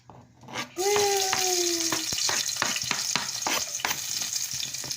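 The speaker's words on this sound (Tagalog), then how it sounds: "medyo mainit ang ating kawali. Ihulog ko na ang bawang." Garlic dropped into a hot kawali (pan) for an ampalaya dish bursts into loud, steady frying about a second in, then keeps crackling with scattered stirring clicks, close up.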